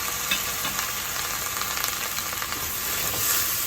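Boiled black chickpeas stirred into raw mango rice frying in a pan: a loud, continuous close sizzle with scraping stirs, and no talking.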